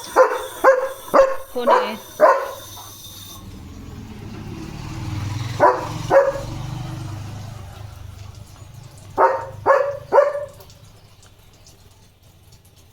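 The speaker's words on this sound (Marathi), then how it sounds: "किती भुंकत असतो नुसता पागल" A German Shepherd barks in a garden in sharp bursts: a run of four or five close loud barks, then a pair, then another quick trio, with a voice speaking briefly between them.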